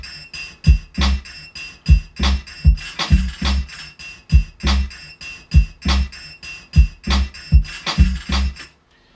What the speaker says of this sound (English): real basic FM style sort of synth bass line